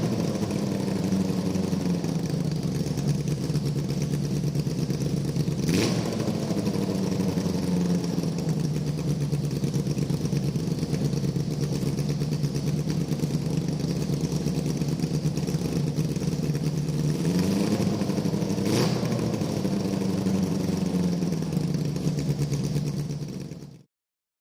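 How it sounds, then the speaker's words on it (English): A 600cc engine in a low-cost DIY buggy runs steadily with the rear wheels spinning in the air, a close continuous mid-pitched drone with two brief revs before it cuts off abruptly. "We put the wheels in the air and started spinning them to see if everything was working as expected."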